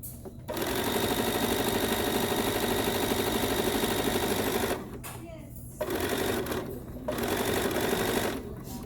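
A sewing machine stitches a sleeve in long steady runs of fast, even mechanical whirring, pausing briefly twice before resuming, close and loud with no talk.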